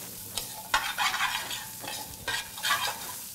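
Garlic frying in a pan and being stirred, giving a close sizzle broken by several quick scraping strokes. No one speaks.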